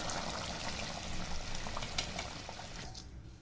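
Liquid bubbles and sizzles in a pot as spice paste is poured into boiling tamarind water for garlic kulambu, a soft continuous cooking sound without talk.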